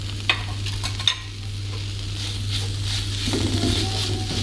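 Chopped tomato stir-fried in a pan for a chicken filling, giving a steady soft sizzle with a few scraping stirs of a utensil, close and moderately quiet, no voices.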